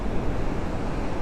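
Strong ocean waves at Dlodo beach, Tulungagung, roar as a dense, unbroken wash of surf mixed with wind rumble, loud and close.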